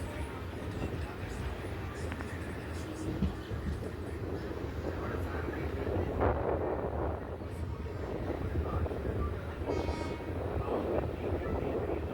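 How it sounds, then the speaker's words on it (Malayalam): Vande Bharat express heading to Mangalore rushes through Chirayinkeezhu station without stopping: a sustained, loud roaring rumble of wheels and rushing air from beside a moving passenger train, with a person talking over it. "മംഗലാപുരം പോകുന്ന വന്ദേ ഭാരതാണ്. അതിപ്പോൾ ചിറയൻകീഴ് സ്കിപ്പ് ചെയ്യുകയാണ്."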